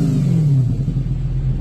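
A manual Audi S4 B6 V8 revs briefly, its deep throaty rumble swelling then easing over under two seconds, close and loud with no talking.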